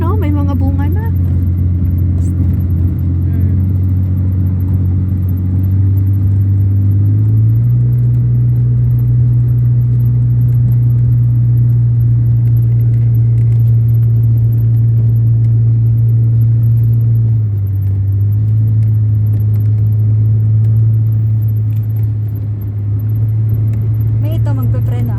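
Car engine rumbling steadily while driving slowly over a rough, stony rural road, a loud continuous low drone with a small pitch shift as it changes pace; people talk over it.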